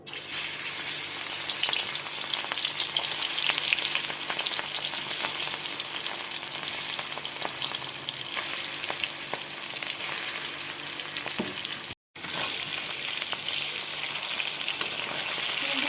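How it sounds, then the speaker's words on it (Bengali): Fish frying in hot oil, a loud, steady sizzle with crackling spatter that continues throughout, broken only by one brief silence. "তেলের মধ্যে মাছগুলো আমি দিয়ে দেবো।"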